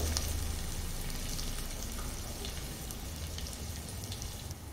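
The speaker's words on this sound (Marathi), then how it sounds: "इथं लसणाचा आता कच्चेपणा जाईपर्यंत आपल्याला इथं लसूण भाजून घ्यायचंय" Garlic fries gently in oil over a low flame for yogurt kadhi, a soft, even sizzle that stays faint and steady throughout.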